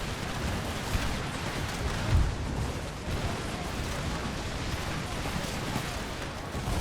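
Artillery pounds a fortress wall in Empire: Total War during a Swedish Empire campaign, heard as a dense, unbroken battle rumble with a couple of heavier booming impacts rising out of it.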